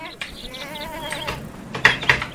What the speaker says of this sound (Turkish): Abi bir koyun daha varmış.